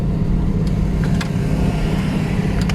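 A Naza Ria car's engine, never overhauled, drones steadily in low gear while climbing the steep road up to Genting Highlands, heard as a loud, even low rumble from inside the cabin, with no talking.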